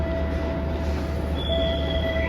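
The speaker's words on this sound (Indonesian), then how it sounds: "Nah ini kereta komuter lain Supas diberangkatkan pada jam 4:11." A Supas local commuter train on the Surabaya–Probolinggo line departs a station, its wheels giving loud, steady high-pitched squeals over a constant low rumble of rolling stock, close by and without speech.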